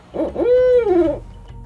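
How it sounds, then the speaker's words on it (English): A captive barred owl hoots up close and loud, a stuttering run of short rising notes sliding into one long drawn-out call that falls off at the end. "out in the wild, barred owls will kind of go, who cooks for you?"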